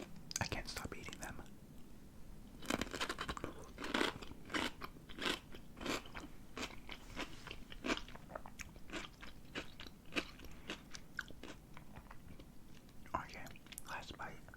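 Pickles bitten and chewed close to the mic, crisp wet crunches repeating in bursts under soft whispered talk.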